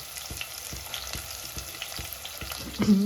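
Onions and curry leaves frying in oil for tomato chutney, a steady close sizzle punctuated by regular spatula taps and stirring strokes, with a brief louder scrape at the end.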